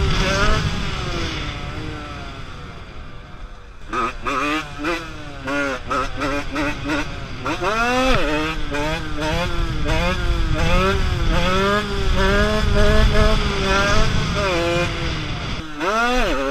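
A motorcycle, a Beta dirt bike, revs hard during a wheelie ride. Repeated rising and falling engine surges run close and loud for most of the stretch, with riders' voices mixed in.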